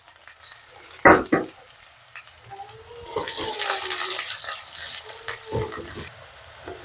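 Sliced onions hit a hot pan of oil with chopped pieces and a bay leaf, bursting into a loud sizzle after a couple of sharp clatters, then a steady crackling fry with occasional scraping stirs.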